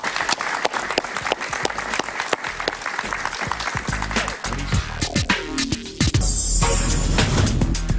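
Studio audience applause on a Spanish-language television talk show, a dense steady clapping that fills the room, swelling louder toward the end with no talk over it.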